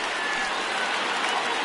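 Crowd of over 29,000 baseball fans at a Twins home game against the Tigers, rising to their feet with loud, sustained applause and cheering that fills the whole stretch evenly.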